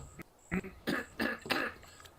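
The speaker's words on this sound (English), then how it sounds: "I really had to clear my throat." A man clears his throat several times in a row, a sequence of short, rough bursts close to the microphone in an otherwise quiet room.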